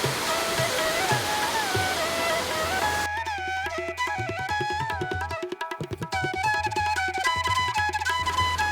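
Water rushes from a sluice gate at Topchanchi Lake, an artificial reservoir near Dhanbad. It is a loud, steady gush for about three seconds, then music takes over with the water still beneath it.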